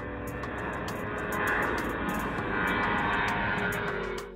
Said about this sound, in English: the planes are taking off over your head every few minutes.